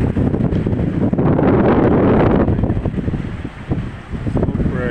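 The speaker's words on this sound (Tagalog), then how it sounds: "Lakas pa rin ang alon dito" Strong typhoon wind buffets the microphone while heavy sea waves roar and crash nearby on the coast at Bulan, Sorsogon, a loud continuous rush with no voices.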